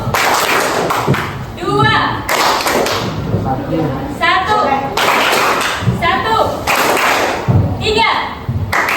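Students clap their hands in a classroom clapping game, with short, sharp claps in separate bursts mixed with a teacher's voice calling out counts. The talk and claps overlap throughout and stay at a lively, close level.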